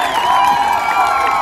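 Football crowd cheering at a Mustangs game after a sack seals the win, a steady, loud roar of many voices with whoops and shouts, heard without talk over it.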